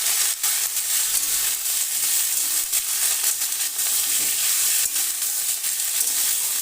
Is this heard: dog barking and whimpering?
no